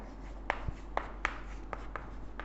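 Pen or chalk strokes on a surface during a math lecture, a series of short, sharp taps and scratches spread unevenly over the moment, fairly close and faint, with no talk.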